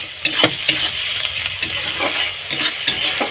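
Ginger garlic paste frying in a pan for a spiced chicken curry, a close bright sizzle broken by repeated quick spatula scrapes and metallic taps at an uneven rhythm, with no talking.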